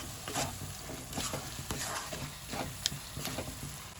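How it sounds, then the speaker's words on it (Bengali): Mixed vegetables sauté in a pan with Kashmiri chili powder and spices, stirred vigorously. A continuous close sizzle carries rhythmic scraping strokes from the spoon and one sharp clink, with no voices. "এবার এটাকে ভালো করে কষিয়ে নিই।"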